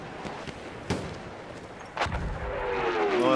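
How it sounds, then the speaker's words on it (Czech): An artillery barrage in Battlefield 1 brings heavy booming blasts, two clear thuds about a second apart followed by a rising rumble and a whistling shell near the end. "The enemies are being halted by our artillery barrage"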